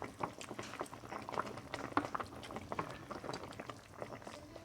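Fish tinola soup bubbling in a pot, a close, steady simmer of small pops and burbles that runs through the whole stretch at a soft level.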